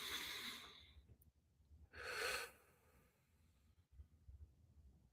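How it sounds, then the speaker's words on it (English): A person does a deep diaphragm breathing exercise, with a slow audible exhale, a pause, then another breath that swells and fades, close and quiet with no talking. "try and use our diaphragm or by our stomach instead of our chest doing the breathing"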